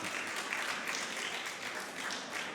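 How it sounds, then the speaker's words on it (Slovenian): A crowd at a charity auction of illustrations applauds steadily, a dense, even wash of many hands clapping together without pause for the whole stretch. "resnično aplavz gre vam vsem"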